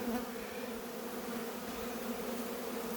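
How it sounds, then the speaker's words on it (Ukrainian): A packed mass of honeybees crowds hive frames, making a steady, close, dense buzzing drone that holds evenly throughout. "Бджоли дуже багато. Дивіться, битком."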